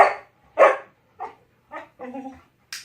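A dog barks and yips in short, separate bursts during go-to-mat training, about six sharp calls spaced through the moment with quiet gaps between them.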